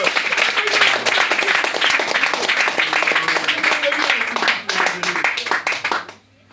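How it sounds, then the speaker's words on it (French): Church congregation claps in acclamation to the Lord during a French-language sermon, dense rhythmic clapping with voices mixed in, loud and close, stopping abruptly near the end. "En quelques minutes d'acclamation au Seigneur."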